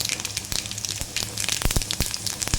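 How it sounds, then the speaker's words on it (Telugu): Tempering seeds sizzle and pop in hot oil in a pan along with garlic, a steady crackling hiss broken by sharp spits, close and moderately loud with no talk. "దీని తర్వాత తాలింపు గింజలు అనేది వేసేసుకుందాం."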